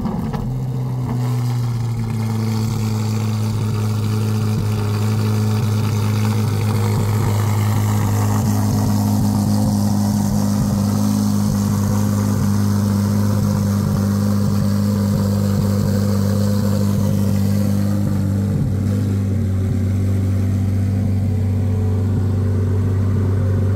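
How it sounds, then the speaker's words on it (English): A Kawasaki Ninja H2 motorcycle engine idles steadily after a cold start, a loud, even low rumble that holds unchanged for the whole stretch with no speech over it. "You had a cold start of the H2"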